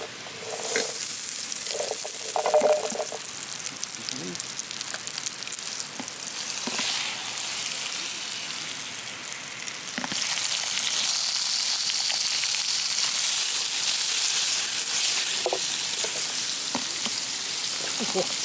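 Butter sizzles in a pan at a valley campsite, a bright, steady frying hiss that gets louder partway through, with a few clinks and brief voices in the background.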